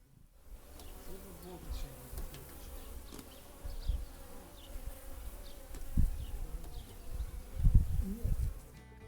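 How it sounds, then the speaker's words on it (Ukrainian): Bees buzz softly around spring flowers nearby, a faint continuous hum with occasional louder passes and a few soft handling bumps. "Бджоли розліталися по повній."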